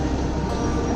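Subway train on the platform level of the World Trade Center station, a steady, close, broadband rumble filling a brief moment with no voices.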